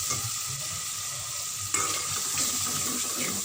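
Chopped tomatoes added to lightly golden onions frying in a pan give a soft, steady sizzle with occasional stirring scrapes, fairly quiet and close.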